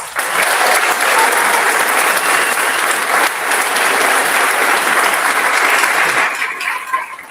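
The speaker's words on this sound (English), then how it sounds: "Let's give these nominees a round of applause." A graduation audience at Wenatchee Valley College's Omak campus applauds the nominees, a loud, dense and sustained ovation that holds steady and then tapers slightly at the end.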